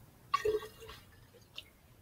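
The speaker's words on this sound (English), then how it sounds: "I'm going to put some more water in it" Water poured by hand into an orchid's water-culture container, a brief soft splash and trickle followed by faint drips and quiet.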